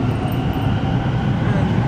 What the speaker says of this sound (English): This is the train to Paddington.